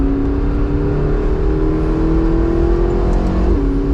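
A McLaren 650S Spider engine in sport mode rumbles steadily at a constant rev with a low, burbling, gurgling exhaust note close by, shifting slightly near the end.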